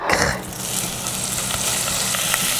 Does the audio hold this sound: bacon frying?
yes